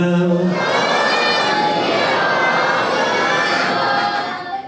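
A Sikh congregation's massed jaikara shout at a religious quiz award gathering, a loud sustained roar of many voices rising together, sounding close and full for several seconds before trailing off.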